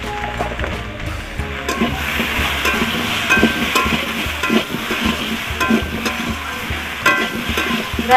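Turmeric and chilli powder frying with pumpkin curry in a pan, stirred with a spatula: a steady close sizzle overlaid with repeated scraping and stirring strokes, no speech.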